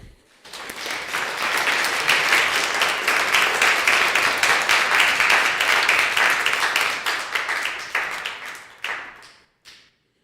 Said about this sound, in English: Let's have a big round of applause for Shannon.